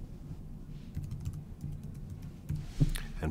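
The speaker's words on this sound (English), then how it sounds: "all we need to do is type in a username, which is an email address" Keys clatter on a computer keyboard as a login is typed, quiet and close, with irregular bursts of keystrokes and one sharper tap near the end, no talking.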